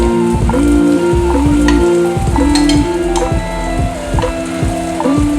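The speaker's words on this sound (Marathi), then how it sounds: "बघू शकता इकडे आपला पास्ता कसा उकळतोय" Pasta boils in a pan, bubbling and sizzling steadily, with a scraping stir and a rhythmic rattle repeating underneath, close and loud.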